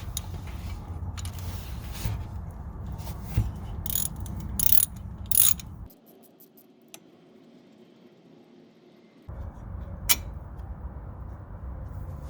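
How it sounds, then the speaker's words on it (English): A ratchet wrench works on a T40 Torx bolt holding a SAAB secondary air injection pump, giving close creaking clicks and mechanical rattles in bursts, followed by a quiet pause and another short burst. "So we have a T40 Torx we're going to remove here."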